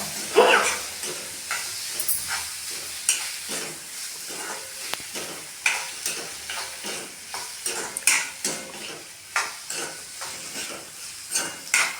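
Chopped tomatoes and other ingredients for a bottle gourd curd chutney are stirred and mixed in a pan, with repeated utensil scrapes and taps over a faint sizzle.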